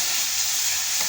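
Chicken tinola cooks in a pan with a steady, close hiss of sizzling and a brief stirring scrape near the end, and no voices.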